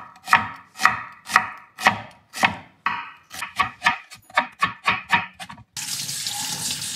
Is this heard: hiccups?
no